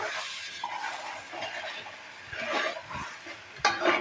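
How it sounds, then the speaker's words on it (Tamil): Thick 7 cup cake mixture being stirred in a pan as ghee is added a little at a time: continuous close scraping and soft sizzling, with a sharper knock of the spoon near the end. "கொஞ்சம் கொஞ்சமாக நெய் விட்டு நல்லா கிளறணும்"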